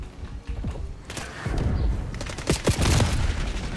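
Rapid gunfire from Black Ops 6 with the Bison weapon crackles through a match, bursts of shots and thuds overlapping densely and loud, with no talking.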